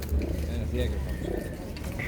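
Pigeons coo low and steadily at a busy outdoor pigeon market in Radom, mixed with nearby voices and general crowd noise.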